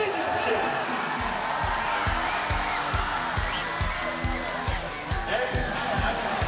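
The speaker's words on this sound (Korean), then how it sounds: "다 같이 뜨거운 박수와 함성을 보내주십시오" A stadium crowd at an FC Anyang football match claps and cheers throughout, with rhythmic low thumps like drums or stamping repeating steadily under a public-address announcer's voice.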